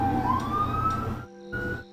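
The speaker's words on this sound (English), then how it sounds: "Okay, the sirens are going down." Emergency vehicle sirens from Dallas Fire Department rescue units wail with a rising sweep, fairly loud over a steady background, then cut out briefly and return.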